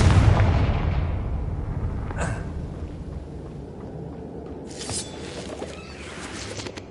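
A Confringo blasting spell explodes in Hogwarts Legacy with a loud booming blast that decays into a long rumbling tail, followed by a few faint sharp crackles.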